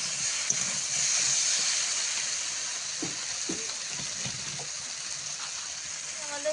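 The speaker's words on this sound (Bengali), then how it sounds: "এবার ঝোলের জন্য একটু জল দিয়ে দেয়" Water is poured into a pan of spiced papaya curry with fish and potato, giving a steady hiss and sizzle that holds through the clip with a few faint clinks.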